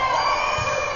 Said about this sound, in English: crowd getting pretty rambunctious here